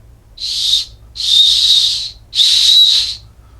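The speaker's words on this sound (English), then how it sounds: "Whistle." Three loud, shrill blasts from a cheap plastic survival whistle out of a clearance survival kit, each lasting about half a second to a second with short gaps between, close and clear over a faint low hum.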